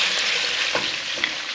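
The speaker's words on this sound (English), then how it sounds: "as our bones are frying away as well" Bones frying in a hot pan, a steady crackling sizzle with occasional louder pops, close up and without talk.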